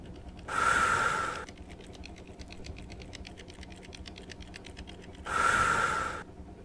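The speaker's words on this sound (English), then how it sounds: "we've got the breathing thing again" Synthesized breathing effect from a 2011 paramedic simulator PC game: two long, breathy inhale-like swells about five seconds apart over a faint, steady ticking background.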